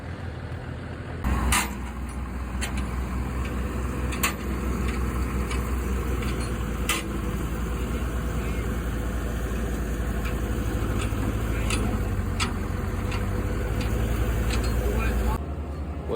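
A backhoe is being loaded onto a trailer after an equipment auction, and a diesel engine rumbles steadily close by under the whole stretch, with scattered clanks and a brief hiss near the start.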